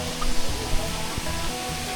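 Constant broadband rushing roar of the Napittachara waterfall on a hill trail, close and fairly loud, with no pauses.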